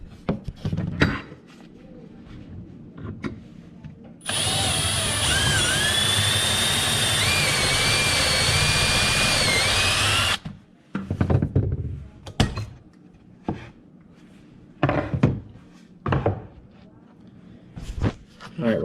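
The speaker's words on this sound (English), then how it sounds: "I'm going to drill through this hole here." A power drill bores through wood while mounting VADANIA VD2576 heavy duty drawer slides, a loud steady whine lasting about six seconds, with clamping thumps and knocks before and after.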